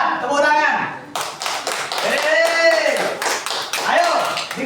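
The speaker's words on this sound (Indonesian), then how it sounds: "tepuk tangan" Group hand clapping in a classroom led by a teacher: sharp, rhythmic claps in repeated bursts, with voices chanting over them throughout.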